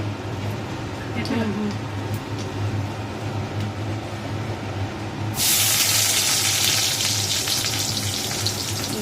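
Onions dropped into hot oil in a pan for a Bengali meat curry burst into a loud, steady hiss partway through, following quieter kitchen sounds with a voice speaking in the background.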